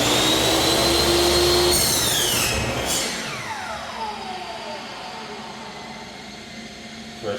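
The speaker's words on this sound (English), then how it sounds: "I got my line marked at my table saw." A table saw cuts through a marked board during a budget rental renovation, starting as a loud, steady whine with a pitch shift as the blade moves through the wood, then spinning down into a fading hum after the cut.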